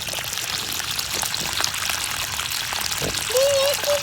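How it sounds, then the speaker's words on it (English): Water draining down into a hole dug in well-drained garden soil, a steady, loud, close trickling and pouring wash that continues without a break and swells slightly toward the end. "all the water's going in that hole"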